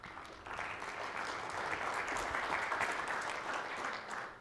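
An audience applauds as a speaker takes the stage at a corporate presentation, dense clapping swelling in after a brief pause and holding steady before fading slightly at the end.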